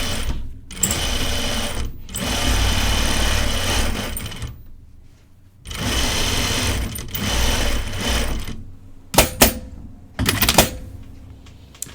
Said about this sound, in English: I sew on a Juki Industrial.